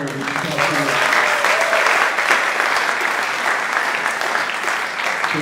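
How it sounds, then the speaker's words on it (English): A crowd at a summer jazz workshop symposium applauds two performers, a steady wash of clapping held at an even level from start to finish. "Let's have a round of applause for Chuck and Joyce."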